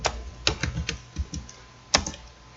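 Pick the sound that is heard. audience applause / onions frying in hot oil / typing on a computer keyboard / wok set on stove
typing on a computer keyboard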